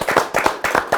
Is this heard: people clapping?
yes